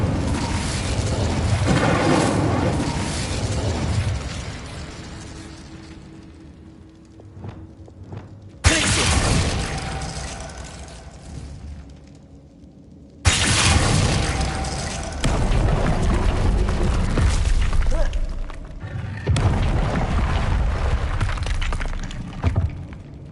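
Confringo and Incendio spells blast in Hogwarts Legacy: heavy booming explosions start abruptly, each swelling into a long roaring rumble that fades before the next strike.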